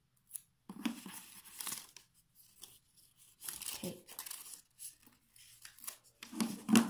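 Tape is torn off the roll while making a paper flower craft: several short, quiet ripping and crinkling bursts come at irregular intervals, close by.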